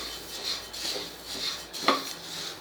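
Cumin seeds dry-roast in a pan while being stirred, giving soft, close scraping and rustling strokes in a loose rhythm of about two per second, with one sharper knock near the end.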